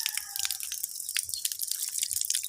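Water drips from a tap at a rest house in a quick, irregular patter of small wet plinks, close by, with a faint high whine early on and no talking.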